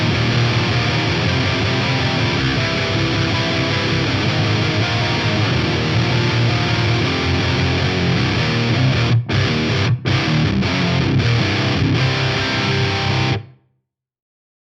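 An electric guitar played through a Mesa Recto amplifier at stock settings gives a dense, heavily distorted roar, sustained and loud, broken by a few brief stops near the end before cutting off abruptly.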